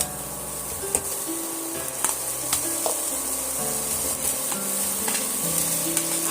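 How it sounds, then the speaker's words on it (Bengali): Fried potatoes tossed in a spice masala for Punjabi aloo dum crackle in the pan, a low steady sizzle punctuated by a handful of sharp stirring scrapes, with no talking. "আলুগুলো দিয়ে আবারও আমি এটা পাঁচ মিনিটের মতন কষিয়ে নেব"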